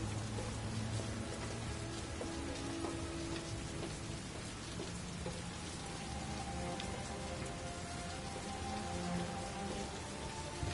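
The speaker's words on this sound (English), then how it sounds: "It's raining." Rain falling in the PS4 video game Heavy Rain, a dense, steady hiss of raindrops pattering on surfaces that continues evenly throughout, fairly faint, with a low rumble underneath and no speech.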